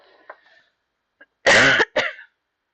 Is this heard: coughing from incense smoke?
yes